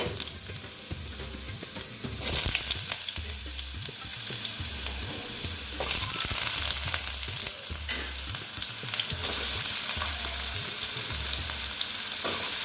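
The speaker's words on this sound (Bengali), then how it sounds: "তেলটা গরম হয়ে গেছে এবার আমি স্টিমটা একটু কমিয়ে দিলাম দেখো আলুগুলো দিয়ে দিচ্ছি" Potato pieces go into hot oil and fry with a loud, continuous sizzle and crackle close by, with several bursts of stirring and spatter along the way.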